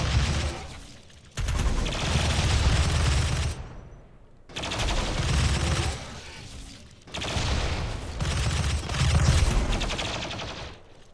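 Rapid automatic weapons fire from colonists shooting at armoured bugs in the Rimworld video game, three dense sustained bursts of a few seconds each separated by short pauses, loud and close.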